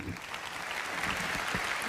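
Audience applause at a Reform party conference in Wales, a dense steady wash of many hands clapping throughout, fairly distant and uniform with no voices standing out.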